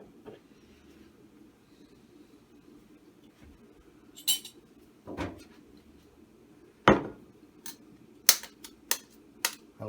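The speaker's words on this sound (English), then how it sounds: "now I'm going to crack 3 eggs" Eggs being cracked for Yorkshire pudding batter, a handful of sharp close clicks and taps of shell against a bowl rim, spaced apart over a quiet kitchen background.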